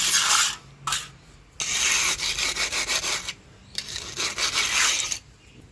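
A shovel scrapes and rubs through sand and cement while a concrete mix is made for a pathway, in repeated rough gritty strokes. The scraping is loud and close, with short pauses between passes.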